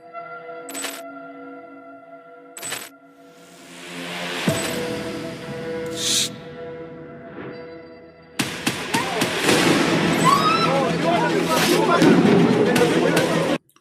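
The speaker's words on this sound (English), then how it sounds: "This is firework, okay? They are firework, and we play them in the Eid." Fireworks set off for Eid at the end of Ramadan, a run of sharp cracks and crackling bursts that builds into dense continuous popping, mixed with tonal whistling and background noise.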